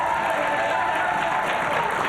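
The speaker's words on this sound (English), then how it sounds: "Let's give a nice round of applause there." A studio audience at a late-night show applauds in a dense, even wash of clapping that stays steady for about two seconds.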